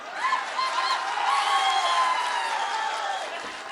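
A large crowd at a political rally for AIADMK cheers and shouts in a steady roar of voices. It swells early and holds loud and dense throughout.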